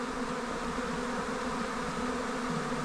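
Honey bees swarming into a nucleus hive make a dense, continuous buzzing drone, close and steady with no pauses.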